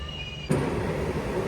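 The Repalle Express passenger train, number 17645, running from Secunderabad to Repalle, rumbles in with a sudden loud onset, then a steady broadband roar of wheels on rails.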